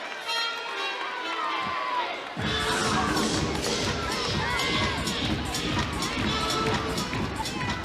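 Teammates cheer and shout from the side of the floor during a women's college gymnastics routine at an Oklahoma vs Auburn meet, a loud, steady crowd roar with whoops and yells that swells after a quiet opening moment.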